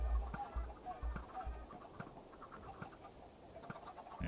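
Chickens cluck in a simple chicken-collecting machine in a building video game, a cluster of soft repeated clucks and squawks up close over a busy low rumble of game ambience.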